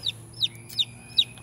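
Small gamebirds give four short, high, evenly spaced clucking chirps, close and clear over a quiet background hum.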